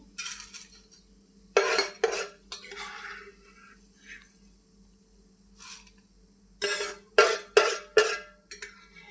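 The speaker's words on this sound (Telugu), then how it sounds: "ఇవి తీసుకుని ఒక వేరే ప్లేట్లోకి చల్లార్చుకుందాం" Fried curry leaves and other ingredients are scooped from a pan onto another plate, giving several bursts of metal scraping and clinking against dishware, clustered near the start and again toward the end, close by.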